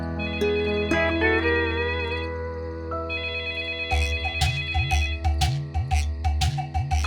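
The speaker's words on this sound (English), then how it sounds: "suddenly the phone rang" A telephone rings in an animated children's story, an electronic ringtone pattern repeating in steady bursts over sustained background music, loud and close.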